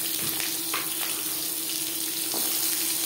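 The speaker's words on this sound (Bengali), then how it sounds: "10-15 সেকেন্ড জিরে কাঁচা লঙ্কা ভেজে নেওয়ার পর দিয়ে দেব ডাটা।" Cumin and green chili, then jute stems, frying in a pan, giving a continuous close hiss and sizzle with a few soft clinks, steady throughout and without voices.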